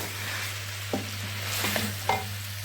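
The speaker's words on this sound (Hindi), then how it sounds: "डालकर हमने अच्छी तरह से भून लेना" Mutton karahi stir-fried in a wok, a steady sizzle of meat in oil with a few sharp scraping strokes of a spatula and a low constant hum beneath, no talking.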